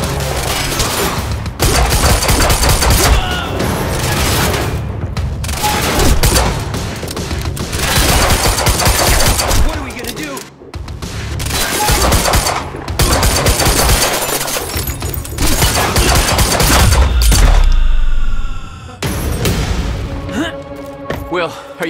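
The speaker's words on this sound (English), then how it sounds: "Stop fucking shooting at us!" An intense gunfire shootout in the video game Quantum Break, with loud continuous automatic fire and heavy impacts hammering on for many seconds and brief lulls, while people shout over it.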